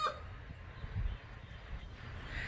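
A rooster clucks faintly in a few short, low bursts with quiet gaps between them, close by but soft, with no talking.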